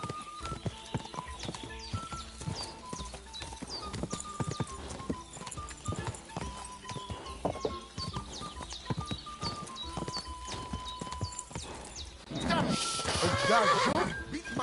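Rhythmic hoof clip-clops of a galloping horse in the video game Kingdom Come: Deliverance, over a busy game soundtrack, with voices and a brief burst of louder rushing noise near the end.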